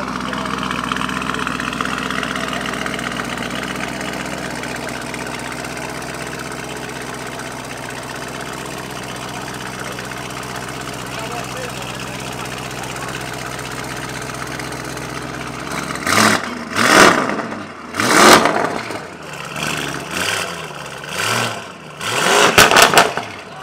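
Bugatti Chiron with carbon bodywork at an exotic car gathering on Las Olas, heard as a steady engine idle mixed with crowd chatter, followed by several sharp revs rising and falling in quick succession.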